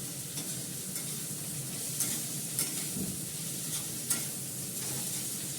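Neem leaves fry in a nonstick tawa, producing a steady close sizzle with occasional light scraping and stirring clinks, fairly quiet and unbroken by speech.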